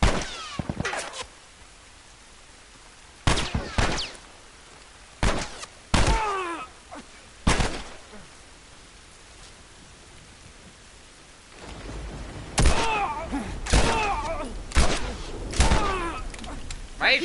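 Gunfire from enemies in the video game The Last of Us, heard as loud sharp shots that come in scattered single bursts and clusters over a steady background hiss, with no talk.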